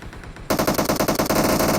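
Automatic gunfire in PUBG Mobile played on an iPhone 11: after a brief quieter moment, a loud, rapid burst of evenly spaced shots rattles on continuously.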